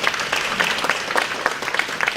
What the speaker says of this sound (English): We give Dr. Plant and a big round of applause.